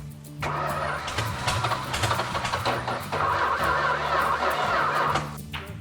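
A Richard Petty Superbird engine cranks over and fires up, with the rhythmic churn of the starter giving way to a loud, rough, sustained idle close by.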